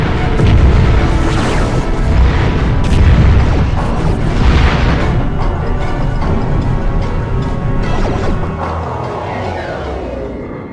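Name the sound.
torpedo explosion in video game Star Trek: Invasion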